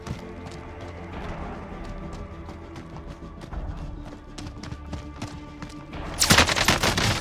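Gunfire cracks out in Warzone, scattered sharp shots over a busy background of movement and rumble, with a louder burst of noisy firing near the end.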